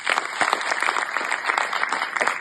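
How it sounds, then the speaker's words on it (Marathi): An audience at the Loksatta Lokankika grand final drama competition breaks into dense, lively applause, a close crowd of hands clapping continuously throughout. "त्या मुलांसाठी जोरदार टाळ्या"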